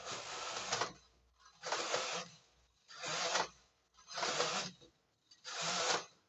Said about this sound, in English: I'm just going to take that off and just knit out some rows of stocking stitch